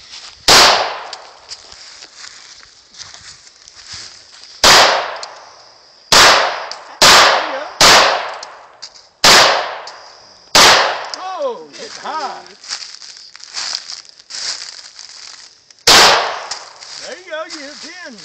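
A 9mm Beretta pistol fired during target shooting: about eight sharp, loud reports at uneven intervals, with people talking between shots.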